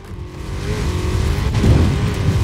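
Car engine in Forza Horizon 4 accelerating in fourth gear at half throttle, a loud, rising growl that builds steadily over a couple of seconds with no talking over it.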